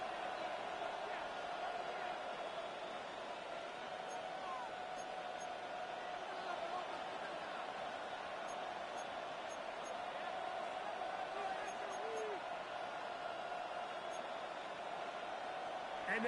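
A football video game stadium crowd gives a steady, distant roar deep in the red zone, running low and constant beneath a commentator's voice throughout.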